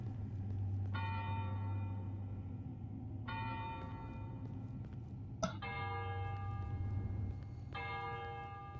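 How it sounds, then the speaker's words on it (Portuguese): A bell in the horror video game Cry of Fear tolls repeatedly in long, ringing, overlapping strikes over a low background hum, with one sharp metallic hit midway. "tocou o sino"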